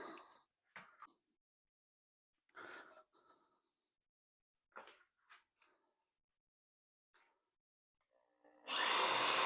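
An old Porter-Cable model 6615 power tool starts with several brief bursts separated by silence, then runs steadily and loudly at the end, close by.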